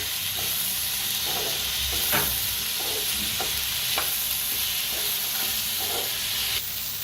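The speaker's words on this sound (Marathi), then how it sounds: "मिरच्या आणि काजू सगळं भाजून घेऊया चांगलं असं" Green chillies and cashews roasting in an Indian kitchen pan, a soft continuous sizzle with occasional scrapes and stirs of a spatula, fairly quiet and close, with no voice.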